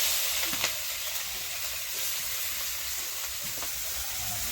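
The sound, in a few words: frying cumin seeds and chopped onion in oil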